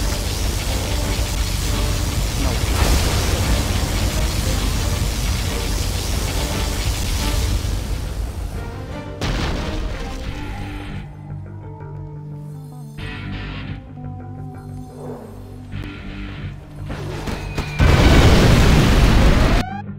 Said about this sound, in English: Our particle cannon has been activated.